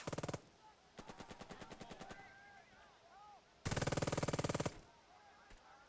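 Machine gun fire in the video game Burden of Command rattles in rapid, even bursts: a short burst, a longer steady string, then a loud close burst, with faint whistling effects and distant battle noise between them.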